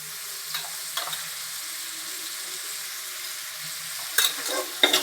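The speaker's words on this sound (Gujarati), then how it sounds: "થોડીક વાર આપણે હલાવીશું, અને હવે નાખશું આપણે હળદર" Chillies cook in a pan for aloo paratha filling, a quiet steady sizzle under occasional light stirring taps, with sharper scraping strokes near the end.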